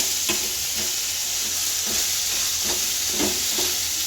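Mint and coriander leaves frying in a pan for a mutton curry make a loud, continuous sizzle and hiss, with repeated scraping strokes of a stirring spoon throughout.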